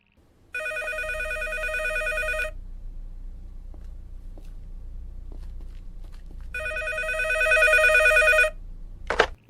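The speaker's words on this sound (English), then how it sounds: "Someone is calling on the phone." An old-style telephone bell rings in an analog horror video game: two long trilling rings separated by a quiet pause over a low hum, followed by a brief sharp click at the end.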